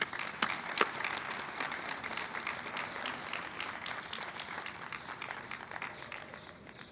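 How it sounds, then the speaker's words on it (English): An audience gives a speaker a round of applause, a sustained wash of clapping at moderate distance with a few sharper nearby claps near the start, fading slightly toward the end. "Give him a big round of applause."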